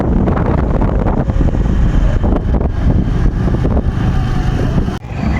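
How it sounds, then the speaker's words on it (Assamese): Strong wind gusts buffet the microphone outdoors at a Bihu dance gathering in Beharbari, producing a loud, continuous rumbling roar with shifting surges and no speech. "আজি আমি বতাহ দিছে, বহুত বতাহ দিছে,"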